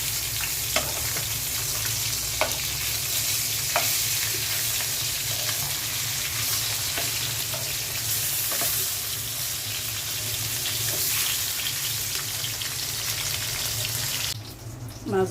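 Fish sizzles steadily in hot oil in a frying pan, a close, dense crackle with occasional soft clicks and stirring scrapes, ending in a brief rustle.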